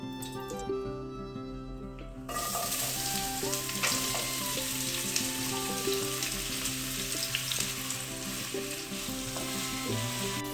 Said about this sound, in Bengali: তো এই যে আমাদের পেঁয়াজগুলো অনেকটাই ভাজা হয়ে গিয়েছে